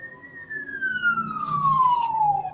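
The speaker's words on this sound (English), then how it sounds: "I hear a siren." A single siren wails nearby, its pitch sliding steadily downward over a couple of seconds above a low background rumble.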